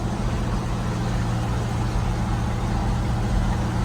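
Loud, continuous engine rumble from a Squarebody truck on 37-inch military tires, steady and close as it drives down the road, with no talking over it.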